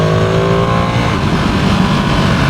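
Motorcycle cruising at about 100 km/h, picked up by a mic inside the rider's helmet with the strap undone, giving a steady, loud engine drone blended with heavy wind roar and no pauses.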